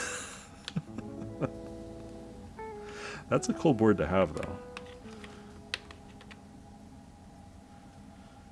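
Clacky typing on an NK87 aluminum mechanical keyboard with Gateron Super Smooth X switches in short bursts, a cluster of rapid keystrokes in the middle, with people talking over parts of it.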